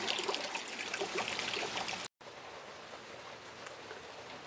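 Morning rain falls steadily in a dense, hissing patter, fairly faint and uniform, with a brief sudden cutout partway through before the shower resumes.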